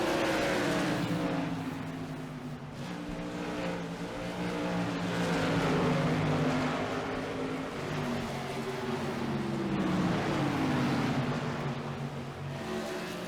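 Race cars lap Five Flags Speedway in a sim racing video game, their engines droning together in overlapping tones that swell and sag in pitch as they circle, steady and fairly loud with no voices over them.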